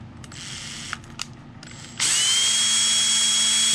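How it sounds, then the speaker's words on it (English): A drill bit bores into a small RC car part, the motor whirring quietly at first with a few clicks, then surging into a loud, steady high-pitched whine from about the halfway point. "Let the drill bit do the work."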